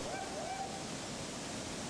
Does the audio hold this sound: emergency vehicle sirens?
no